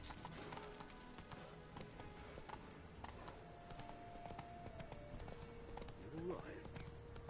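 Roach the horse galloping in The Witcher 3, with faint rhythmic hoof clip-clops under game music and ambience, and a voice speaking over it.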